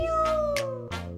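A cat gives a couple of short meows within a Telugu children's rhyme, over a sustained musical backing.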